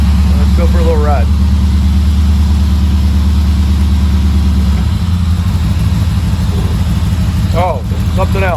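A Vette kart's small engine runs steadily on a ride with a constant low droning hum and pulsing rhythm, shifting pitch partway through, while a voice talks briefly over it near the start and end.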